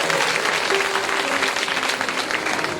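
An audience at a devotional gathering gives steady applause for a guru. The clapping is dense and sustained throughout, with no pause.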